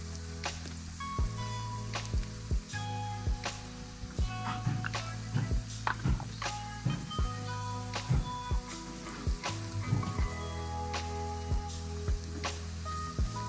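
Cauliflower with turmeric and salt stirred in a hot pan, a low steady sizzle under repeated close clinks and scrapes of the spoon against the pan, evenly spaced for the whole stretch with no talk.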